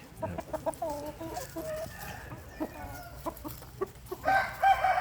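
Burmese gamecock roosters, five males in one pen, crow and hens cluck nearby in a yard, with scattered calls early on and a louder crow near the end.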